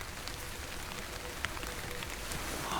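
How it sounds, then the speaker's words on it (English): Rain starting to fall on an old mining building used as a night shelter: a steady, dense patter of drops across the whole span, fairly soft and even, with occasional slightly louder taps. "It's starting to rain."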